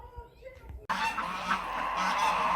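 A flock of geese gathers to be fed bread at a demolition yard and erupts into loud, overlapping honking that continues without a break after a quieter opening.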